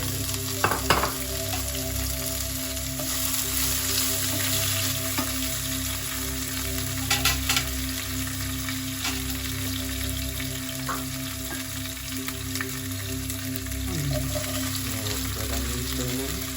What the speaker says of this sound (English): curry leaves, pandan leaves, green chilies going in